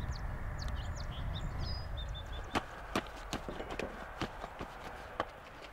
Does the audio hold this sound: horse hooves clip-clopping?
yes